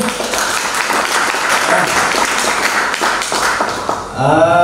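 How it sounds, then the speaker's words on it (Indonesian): Audience applause at a grand final debate competition, a dense burst of clapping from a room of people that fades toward the end as a voice begins speaking. "Oke, kita beri aplaus nih."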